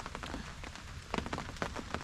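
Steady rain patters on surfaces in the woods during a Wisconsin deer hunt by a food plot, a constant hiss with scattered louder drop hits close by and no talking.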